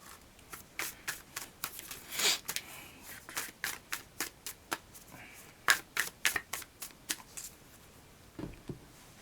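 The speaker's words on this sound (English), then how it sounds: "And we'll shuffle our oracle deck as well." An oracle card deck is shuffled close by in a series of quick, crisp riffles and taps with an irregular rhythm.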